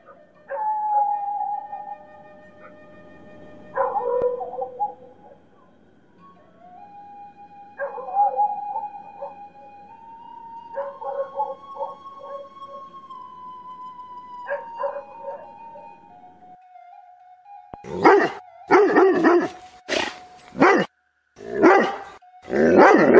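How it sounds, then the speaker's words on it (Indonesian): Dogs howl and whine in drawn-out tones, then break into loud, rapid barking near the end as they come closer, several animals sounding close. "Gonggong anjing yang semula kedengaran sayup-sayup kini makin mendekat bunyinya."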